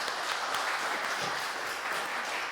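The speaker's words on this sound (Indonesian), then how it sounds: "kita kasih tepuk tangan lagi." A church audience at a youth and teen worship service claps after young singers perform, a brief burst of steady, full-room applause with no voices over it.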